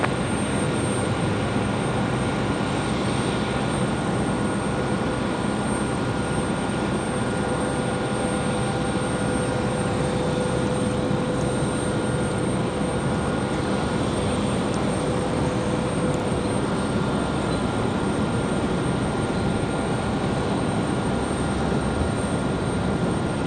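An American airliner takes off from runway 23 right at Raleigh Durham, a steady broad engine roar that holds loud and constant throughout with no talk over it.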